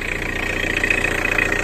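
An old truck engine turning over roughly, a fast, even mechanical pulsing with a metallic rattle, steady and fairly close, with no voices.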